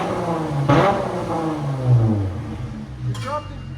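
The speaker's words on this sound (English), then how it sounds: "Here's idle." Car engine idling through an aftermarket muffler during a muffler comparison test, a low steady rumble with a couple of slight revs, heard under people talking nearby.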